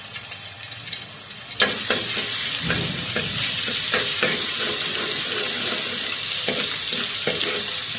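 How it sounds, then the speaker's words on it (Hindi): Mashed potatoes with garlic paste sizzle and fry in a pan while a utensil scrapes and stirs at intervals, close and fairly loud throughout. "इसको हल्का सा फ्राई कर लेंगे।"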